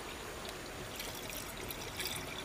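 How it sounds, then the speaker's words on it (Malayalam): Water pours in a soft, steady trickle into the radiator of an Ashok Leyland vehicle before a cold start. It is faint and continuous, with a light splashing hiss and no talking. "നമ്മൾ ആദ്യം റേഡിയേറ്ററിലെ വെള്ളം ഒഴിച്ച് ഫില്ലപ്പ് ചെയ്യുകയാണ് ചെയ്യുന്നത്."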